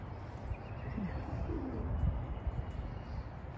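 Pigeons coo softly outdoors on wet grass in light rain, a few low murmuring calls heard faintly over a steady background hiss.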